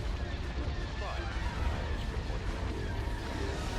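Laser cannons fire in a Star Wars space battle video game as a dense, continuous rumble of blasts and bursts, loud and full, with voices talking over it.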